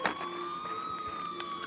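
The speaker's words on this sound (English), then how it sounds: "until I finally heard sirens in the distance." Police sirens wail far off in a steady, faintly wavering tone that drifts slowly downward, with no voices over it.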